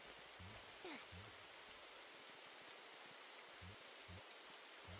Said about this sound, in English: That rain effect is quite nice and unexpected.